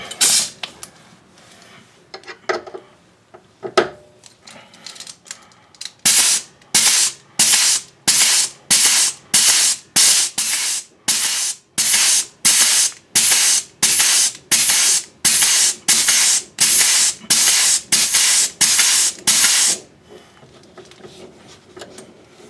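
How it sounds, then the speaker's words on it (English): Grease gun pumping grease into the fittings of a Hyundai Elantra, a long run of loud, evenly spaced hissing squirts, about two dozen strokes in a steady rhythm after a few quieter clicks. "So now I'm just going to go ahead and grease these fittings up."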